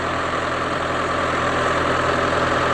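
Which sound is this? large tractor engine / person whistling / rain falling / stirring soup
large tractor engine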